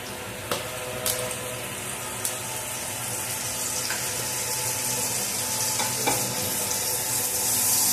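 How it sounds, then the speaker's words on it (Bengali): Butter sizzling in olive oil spread across a frying pan, a steady close broadband hiss throughout with a few sharp clicks and spatters, no talking. "তারপর এর মধ্যে একটু মাখন দিয়ে দেবো।"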